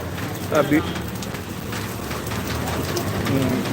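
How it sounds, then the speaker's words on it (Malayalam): Heavy rain pours down steadily in Kottarakkara, a dense even hiss throughout, with a voice speaking under it. "മഴ അതിശക്തമായിട്ട് തന്നെ പെയ്യുകയാണ്"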